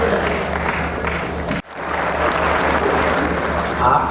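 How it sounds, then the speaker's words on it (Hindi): Loud applause from a large crowd at a poetry recital in Delhi, dense and sustained, dipping abruptly for an instant midway before surging back to full strength. "मैं चाहता हूं कि कविता के इस राजदूत के लिए दोनों हाथ ऊपर उठाकर जोरदार तालियां बजाई जाए"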